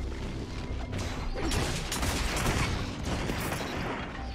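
A grenade blast in a video game shooter erupts amid dense gunfire, a loud sustained burst of crashing explosions and rapid shots without a clear single boom.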